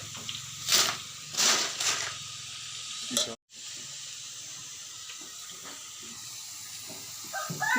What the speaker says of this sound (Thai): ทอดกล้วยฉาบ